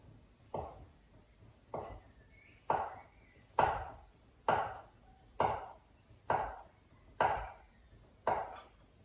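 A knife slices through fresh pasta dough into knife-cut noodles on a board, about nine evenly spaced firm thuds, each chop close and clear, alone in a quiet room.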